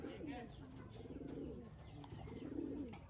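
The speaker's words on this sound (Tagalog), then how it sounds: "Ito mga kalapatis, blue." Racing pigeons, blue bar and checkered birds, coo softly in low repeated murmurs against a steady background hiss, with the calls swelling twice across the short stretch.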